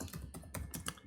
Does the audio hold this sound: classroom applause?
no